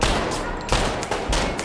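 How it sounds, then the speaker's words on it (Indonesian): A dense burst of film gunfire rattles out in a shootout, with several loud overlapping shots over about two seconds and no pause in between. "aksi baku tembak pun gak bisa dihindarkan"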